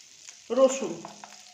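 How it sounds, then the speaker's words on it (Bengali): Minced garlic hits hot butter and oil in a pan for butter garlic broccoli, a sudden burst of sizzling that settles into a gentle hiss with a few small pops. "রসুন কুচিটা দিলাম। গ্যাসটাকে কম করে দিয়ে এবার এটাকে একটু ভেজে নিতে হবে ভালো করে।"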